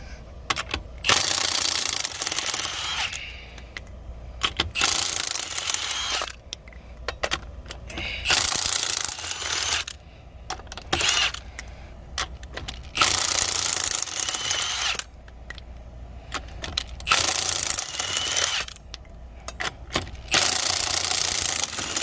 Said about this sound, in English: 21mm socket for the lug nuts and the Milwaukee 18-volt impact.